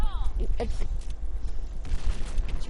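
Rapid gunfire in a video game, a close cluster of sharp shots that may come from a shotgun, with a voice talking over the bursts throughout.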